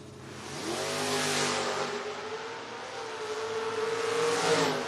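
Footbrake drag race cars, a Camaro and a Mustang, roar down the strip at a distance, engines revving and rising in pitch as they accelerate, a sustained loud drone with no voices.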